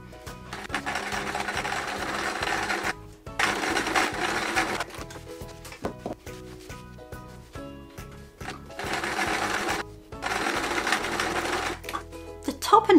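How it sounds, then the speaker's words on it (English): Sewing machine stitching green border strips onto a patchwork quilt top, running in several long bursts of steady fast mechanical whirring, separated by short pauses, with light handling noise between runs. "I'm going to set up my machine and begin the stitching"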